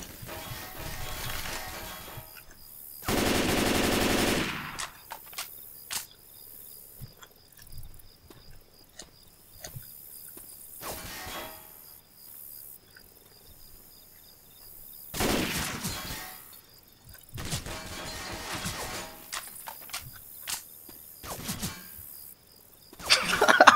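Gunfire in a Left 4 Dead 2 gun fight arrives as several loud bursts of rapid shots separated by quieter game sounds, with little talking.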